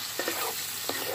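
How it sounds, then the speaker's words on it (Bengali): Shrimp and taro stems fry in a pan with mustard, giving a dense, continuous sizzle for about a second. Two faint soft stirring bumps break through the hiss. "আর একদম হালকা আছে এটাকে চাপা দিয়ে দিয়ে আমি এবার ভেজে নেবো।"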